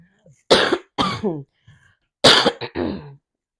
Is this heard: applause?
no